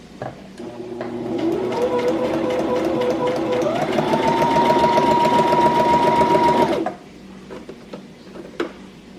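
A Brother XM2701 sewing machine runs a zigzag stitch, a steady loud mechanical whir with rhythmic needle clatter for about five seconds, slightly rising in pitch, then stopping abruptly; a few faint clicks follow.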